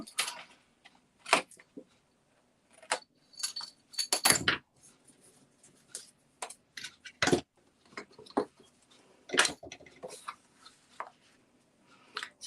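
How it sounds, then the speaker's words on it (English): Scissors snipping out a section of card for a gift tag box, a run of short crisp cuts and clicks close by at an irregular pace, with a few louder handling knocks and no talking. "Let's cut that bit out."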